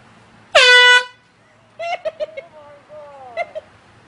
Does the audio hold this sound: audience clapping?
no